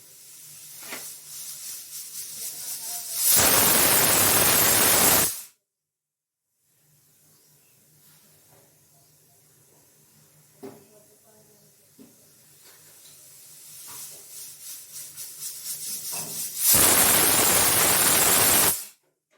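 A pressure cooker of dal lets out two long, loud blasts of escaping steam, separated by a stretch of quieter bubbling and faint hissing on the stove.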